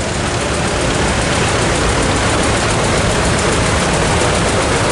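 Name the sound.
old tractor engine running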